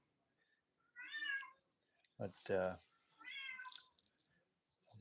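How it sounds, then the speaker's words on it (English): Pet cats meowing for food, two drawn-out meows with a brief spoken word between them, fairly close and clear in a quiet room. "my cats must be they want food. I can hear them meowing."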